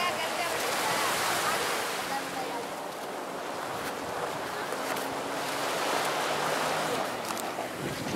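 Cenang Beach on Langkawi Island, Malaysia, gives a steady broad wash of gentle surf and wind, loud and continuous without distinct breaking waves.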